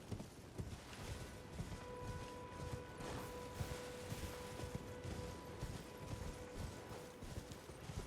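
Galloping hooves clatter in a quick, steady rhythm, with a faint sustained tone humming underneath, from a horse running in Elden Ring.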